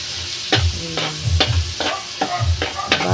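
Onions sauté in butter in a pan for carbonara, giving a steady sizzle broken by repeated scraping stirs about every half second, close and clear with no talking.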